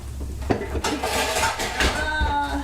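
A tall stack of metal baking pans crashing down in a home kitchen, with a clattering burst of metal on metal at the start and rattling, clinking pans settling afterward.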